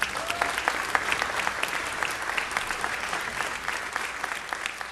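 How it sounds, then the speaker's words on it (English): A round of applause from an audience at the close of a Los Angeles city budget session, steady mid-level clapping from a modest group sustained for several seconds, with no speech over it. "Let's have another round of applause"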